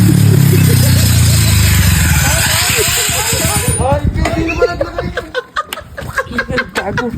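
A motorcycle fitted with a corrugated metal sheet: a loud engine roar fades out, then irregular metallic rattling and clattering follow, mixed with people chuckling and laughing nearby.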